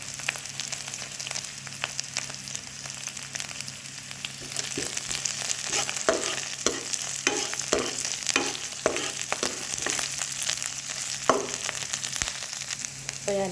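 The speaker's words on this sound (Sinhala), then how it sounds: "අපි දැන් මේ ටික යාන්තමින් හොඳ සුවඳට ටෙම්පරාදු වෙලා" Mustard seeds and urad dal sizzle in hot oil while okra is being tempered, a continuous close frying crackle broken by repeated stirring scrapes in the pan.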